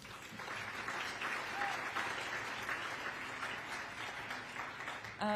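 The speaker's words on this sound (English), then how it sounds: "Another round of applause." Audience applause at the 2023 Peabody Learning Academy graduation ceremony, a steady, dense wash of many hands clapping that holds at an even level throughout and swells slightly at the very end.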